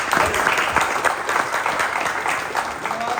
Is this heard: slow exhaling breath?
no